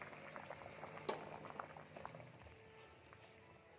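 Malvani-style chicken curry with coconut bubbles steadily in a pot, a soft continuous boiling and popping close by, with one brief clink partway through and no talk.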